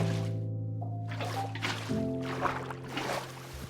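Water pours from a bucket and splashes in a modded Minecraft UHC game, with a soft sloshing rush over steady background music tones.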